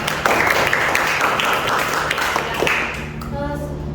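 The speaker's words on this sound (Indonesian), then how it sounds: "Tepuk tangan dulu dong buat kelompok E" Students in a classroom guidance lesson clap for group E, a busy patter of many hands at moderate loudness that thins out toward the end as a voice begins speaking.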